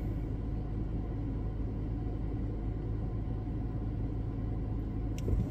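A car drives slowly through a crowded parking lot, heard from inside as a steady low engine and road rumble with a faint click near the end.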